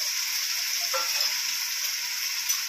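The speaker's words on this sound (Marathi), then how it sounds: "हा मसाला चांगला कच्चा मसाला तेल सुटेपर्यंत आपण मस्त फ्राय करून घ्यायचा आहे" Ground coconut, garlic and coriander masala paste fries in oil in a pan, a steady close sizzle with soft hissing and faint stirring, no voices.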